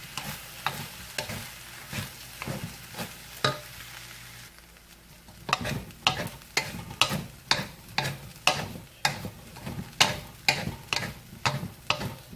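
Fried rice being stir-fried with a splash of soy sauce, a spatula scraping and knocking the pan in a steady rhythm of sharp strikes over a soft sizzle, growing busier and louder after a brief lull.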